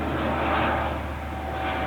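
An airplane passes overhead as a broad, steady engine roar, moderately loud and continuous, with no voices.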